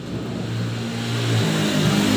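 A Honda Vario scooter engine idles after starting on a very cold morning, a close, steady mid-pitched hum with a slight rise in revs partway through, alone with no talking.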